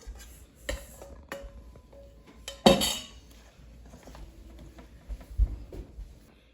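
Utensils scrape and clink against a bowl while dates are folded into a biscuit mixture, a close, fairly quiet series of metallic taps and knocks with one louder clatter and soft stirring in between.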